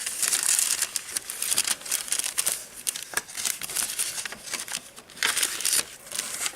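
A plastic bag is handled and crinkled up close, producing irregular bursts of crackling and rustling with brief pauses between them.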